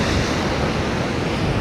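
Ocean waves breaking on the shore at Rabat, Morocco, a steady broadband wash of surf mixed with wind rumble, continuous and close throughout with no talk.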